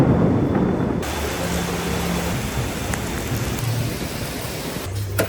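Heavy rain pours steadily in a Kuala Lumpur street, a dense loud hiss throughout with a low rumble that may be thunder, and no talking.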